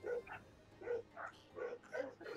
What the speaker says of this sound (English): Dogs be barking.